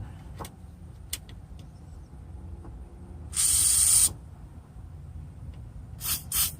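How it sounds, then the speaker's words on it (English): A steady hissing burst of aerosol spray on a 2005 Subaru's rear brake parts lasting under a second, with a couple of short spray bursts near the end over low background rumble. "We're just going to spray a little bit of that just in case it's a little tight."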